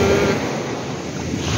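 Strong sea waves crash and surge against a seawall in Bicol, a loud continuous roar of surf mixed with gusty wind buffeting the microphone.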